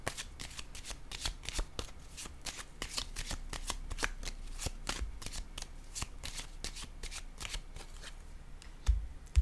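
Tarot cards shuffled by hand, a steady run of quick crisp riffling snaps close to the listener, ending with a card set down, with no talking over it.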